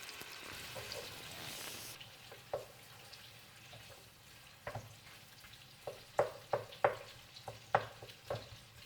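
Sausage sizzling well done in a frying pan for highland-style Polish lecsó, a steady crackling fry with sharp spatters and stirring clatters growing more frequent toward the end, close and without talk.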